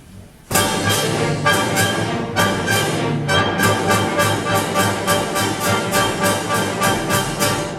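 An oboe imitating a cockerel crowing at daybreak in Saint-Saëns' Danse Macabre, heard within full orchestral playing, with loud repeated chords pulsing steadily after a sudden start.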